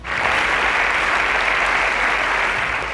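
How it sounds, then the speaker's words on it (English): A studio audience at a televised school quiz semi-final gives a contestant a sustained round of loud, even applause, a continuous wash of clapping lasting the full three seconds. "A round of applause for Lofty."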